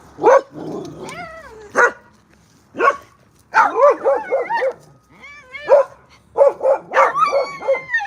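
Dogs bark and yip repeatedly at close range, loud bursts coming in quick uneven clusters with short pauses between.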